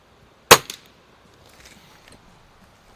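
One sharp, close report from a Cometa 300 .177 break barrel air rifle fitted with a moderator at an outdoor range, a crisp crack followed by a brief faint echo.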